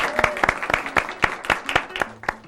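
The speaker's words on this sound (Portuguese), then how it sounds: "Palmas para eles que aceitaram participar do programa" Studio audience applauding for two journalism and advertising students appearing as guests on a Brazilian TV program, with sharp separate claps over a broad clapping wash and a voice speaking partway through.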